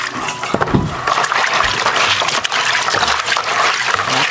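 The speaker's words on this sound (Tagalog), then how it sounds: "hugasan natin ng tubig para malinis" Running water splashes steadily over a crab shell being rinsed clean, a continuous close trickle and gush lasting the whole stretch with no talk.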